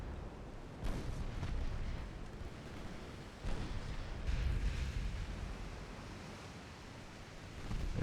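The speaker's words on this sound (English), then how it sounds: "Hopefully that enemy battlecruiser won't slam my light cruisers with its 14-inch guns." Heavy 14-inch naval guns of an enemy battlecruiser firing in a night battle in Ultimate Admiral Dreadnoughts, deep booming reports at about one, three-and-a-half and four-and-a-half seconds over a steady low rumble of sea and ambience.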